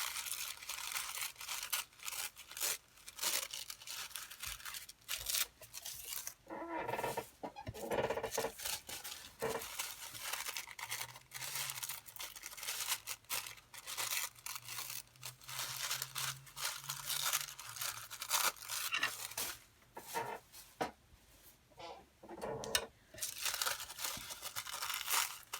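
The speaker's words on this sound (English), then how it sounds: "we'll just, again, rip both of the edges off" Paper being torn as its edges are ripped off, repeated loud close tearing and crinkling strokes in irregular bursts, with short pauses between rips and no speech.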